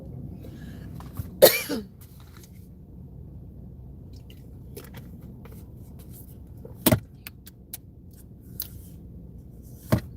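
A single sharp cough sounds nearby, followed by a couple of fainter clicks and a thud over quiet background hum.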